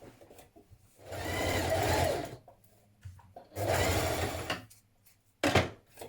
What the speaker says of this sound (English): Now we're going to stitch this with a double seam